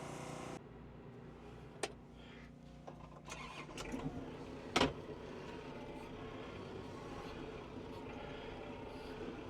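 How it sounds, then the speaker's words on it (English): A tractor with a bucket works in a wood yard, heard from the cab during a ride-along. Its engine hums and drones steadily throughout, broken by a few sharp clanks and knocks. "Let me take you for a ride along in the tractor here."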